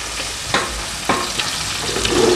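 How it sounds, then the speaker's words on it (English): Onions frying in a pan for cooking liver: a steady close sizzle with a few brief stirring scrapes over about two seconds, no voices. "fry your onions until they are golden brown"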